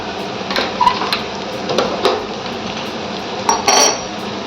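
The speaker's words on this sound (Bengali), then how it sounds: "দিয়ে পুরো মিশ্রণটাকে নাড়াতে হবে" A spoon scrapes and clatters against a pan while stirring prawns with turmeric, cumin powder and salt, giving irregular metallic knocks and scrapes over a faint background, with no talk.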